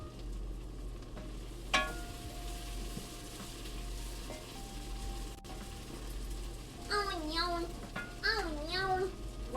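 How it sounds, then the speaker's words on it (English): Onion sizzling and being stirred in a pan, a quiet steady fry with occasional scraping, under a voice and other voices nearby. "We're cooking up the onion."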